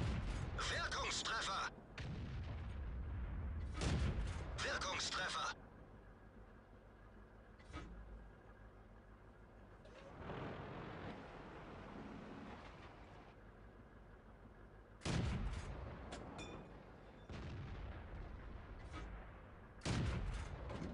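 Heavy tank cannon shots from a Churchill VII in World of Tanks: several loud booming blasts with rumbling tails, spaced irregularly between quieter engine and ambient stretches.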